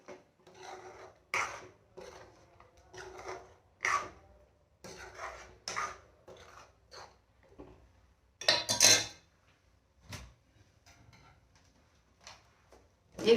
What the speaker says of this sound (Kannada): ಚೆನ್ನಾಗಿ ಮಿಕ್ಸ್ ಮಾಡ್ತಾಯಿದ್ದೀನಿ.